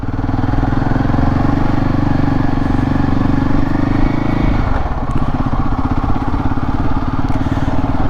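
A motorcycle engine labours in first gear up a steep mountain road in Himachal Pradesh, a steady close drone that shifts pitch midway, with wind rush and no talk.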